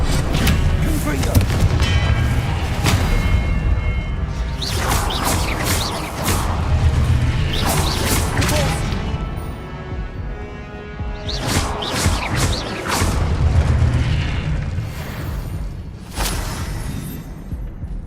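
Repeated blasts from the Confringo fire spell in the video game Hogwarts Legacy, played at highest difficulty, with booming impacts in clustered bursts over steady game music and combat noise.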